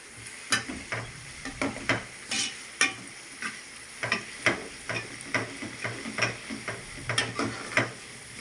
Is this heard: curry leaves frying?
yes